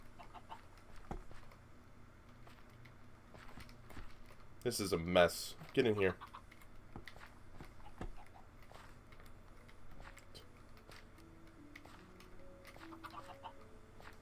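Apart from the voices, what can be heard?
chicken clucking in Minecraft video game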